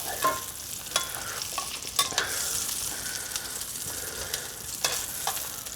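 A tournedos beef fillet for tournedos Rossini cooks in a pan with a steady hiss of sizzling fat, punctuated by several sharp utensil clicks and scrapes, with no talking.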